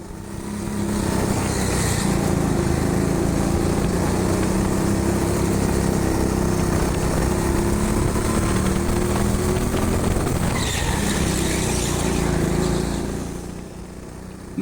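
Go-kart engine droning steadily through hot laps on the indoor TeamSport Sheffield circuit, a continuous buzzing hum holding near and loud with slight pitch shifts, easing off at the end.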